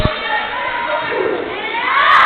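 Crowd at a college volleyball game cheering and shouting, a dense mass of voices swelling louder toward the end, with a sharp knock at the start.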